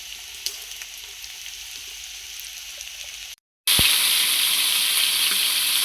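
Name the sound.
cooked rice added to frying egg in pan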